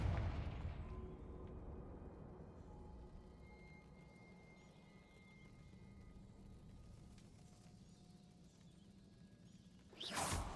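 A Confringo fire spell bursts in Hogwarts Legacy: a sudden loud blast arrives near the end, following a long stretch of quiet low rumble and faint ambient tones.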